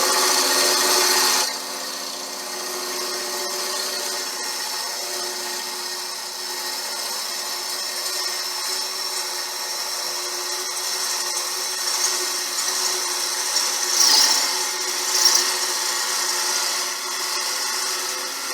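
A wooden bowl blank being roughed out on a lathe, the cutting tool rubbing against the spinning wood in a steady, close, rushing hiss that swells slightly toward the end, with no voices.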